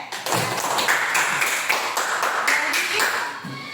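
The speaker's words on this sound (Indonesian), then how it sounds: "tepuk tangan untuk Jennifer" Classroom clapping for a student named Jennifer during a lesson on fasting, a short burst of scattered, uneven claps from a small group, fairly close, with voices talking over it.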